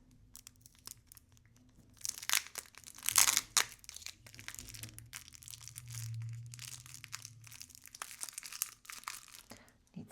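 Cardboard being folded and crushed: crackling, crinkling bursts and rustles near the microphone, loudest in the middle, with a low hum beneath.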